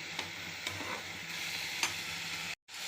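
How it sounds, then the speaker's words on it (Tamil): Curry leaves sizzle steadily in a hot pan while a utensil stirs with occasional scraping clicks, before a brief sudden cutoff. "கொஞ்சம் நல்லாவே வதங்கட்டும்."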